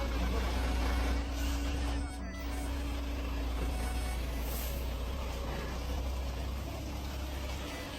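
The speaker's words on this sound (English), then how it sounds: "This one is hauling the main counterweights. All right, carefully back it up." A truck hauling the main counterweights for a massive crane backs up, its engine rumbling low and steady with a hiss of air brakes at the job site, while people talk nearby.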